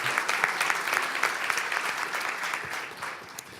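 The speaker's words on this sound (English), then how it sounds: "Can we get a round of applause?" Audience applause at a PyCon Balkan 2018 conference talk, a steady wash of many hands clapping at moderate loudness that tapers slightly near the end.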